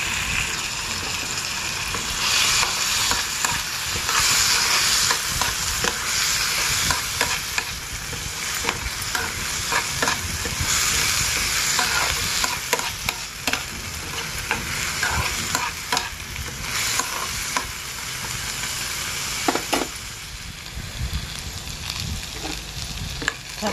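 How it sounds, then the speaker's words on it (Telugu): Soaked moong dal frying in a pan for drumstick curry, a steady close sizzle with a spatula stirring and scraping throughout, with no talking. "చక్కగా వేగుతుంది."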